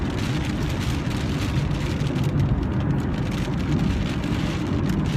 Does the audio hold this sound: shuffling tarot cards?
no